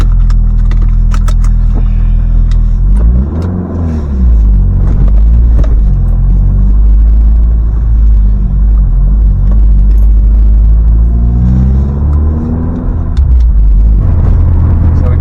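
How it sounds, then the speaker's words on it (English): An MG ZR 160 engine idles with a deep, loud, rumbling Scorpion sports exhaust, steady throughout with slight changes in pitch as it runs. "Hopefully you can hear that lovely Scorpion exhaust."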